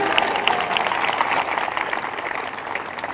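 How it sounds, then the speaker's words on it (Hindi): A church congregation claps hands together in thanks during a Hindi-language worship service, a steady dense patter of many hands sustained throughout at moderate loudness with no talk over it. "ताली बजाकर धन्यवाद करें।"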